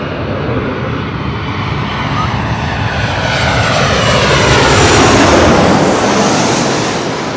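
An airliner arriving at LAX from Portland roars loudly and close overhead, its engine noise swelling and sweeping in pitch as it passes, then easing slightly.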